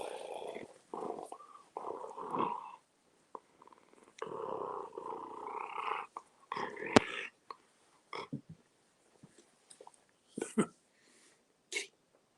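A pet cat purring close by on a rainy, cold day, the low rumble coming in irregular bursts with pauses, mixed with a person softly calling to it.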